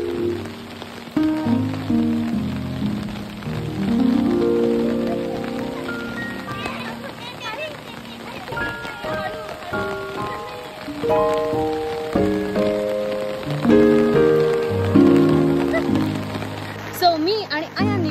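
Rain falls on surfaces in a village during the monsoon, a steady patter heard under children's voices and playful talk that carry on throughout.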